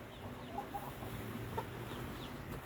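Backyard chickens cluck softly in a quiet coop setting, a few short scattered calls over a faint, steady background hum.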